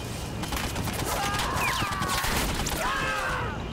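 Gunfire and an HE shell being fired in the toy-soldier video game Army Men of War: a dense crackle of shots and blasts, with brief whistling tones over a continuous rumble.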